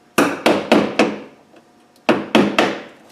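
A small punch made from an old screwdriver, hammered to drive a rivet out during Land Rover Defender footwell and door pillar repair: four sharp, ringing strikes, a pause, then three more, loud and close with no talk.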